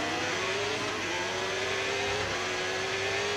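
A race car on its formation lap warming its tyres, the engine droning loud and steady with a rising whine as it accelerates, heard from inside or close by with no voices.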